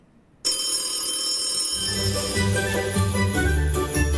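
A telephone-ring jingle for a radio call-in prize segment opens after a brief quiet, a bright tinkling ring that soon gains a musical backing and keeps going steadily at a fairly loud level, with no talking.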